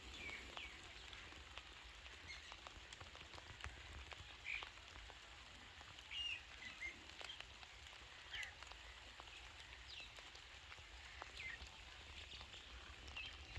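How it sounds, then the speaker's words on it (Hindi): Light rain falls steadily in a village in Punjab, a soft continuous patter with scattered drip clicks, while frogs croak faintly in the background; no one speaks. "हल्की हल्की बारिश"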